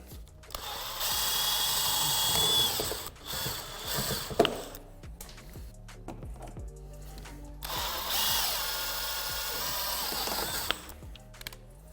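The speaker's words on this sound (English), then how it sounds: "Tip, always put your drill in forward." Power drill boring out rivets on a C7 Corvette undertray, whirring in two long bursts of several seconds each with a brief pause and clicks between, close and fairly loud.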